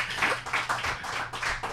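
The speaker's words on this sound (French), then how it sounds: "Je demanderai au public peut-être de donner une bonne main d'applaudissement à ces candidats" An audience at a debate claps for the candidates, a lively burst of hand claps in quick uneven pulses, close and moderately loud throughout.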